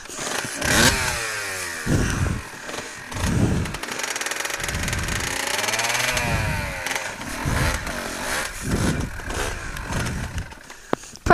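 A pit bike engine sits in neutral and runs rough and loud nearby, revving up and dropping back in uneven surges for several seconds.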